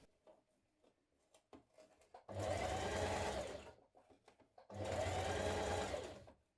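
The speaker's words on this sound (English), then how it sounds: "we're going to stitch these two front pieces together from this notch here" A sewing machine runs in two loud bursts, stitching two trouser front pieces together, each run lasting about two seconds and separated by quieter handling noises.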